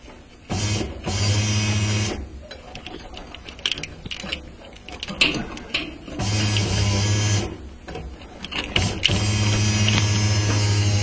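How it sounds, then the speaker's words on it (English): An electric fuel pump runs on a car during a no-start diagnosis, miked up close: a steady mechanical hum and whir that stops and starts in several distinct bursts. "I'm hoping that you're hearing that fuel pump"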